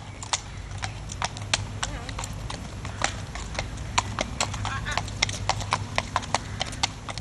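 A horse trots with a right hind limb lameness, its hooves clip-clopping in a steady, slightly uneven beat of sharp knocks on hard ground, close and clear, with a low background hum.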